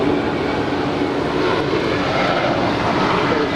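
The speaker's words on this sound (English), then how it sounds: "And Air France Flight 70 coming in from Paris. This is a 777-200ER." An Air France Boeing 777-200ER arriving from Paris at LAX produces a strong, unbroken jet-engine roar that stays close and even in loudness, heard alone without talk.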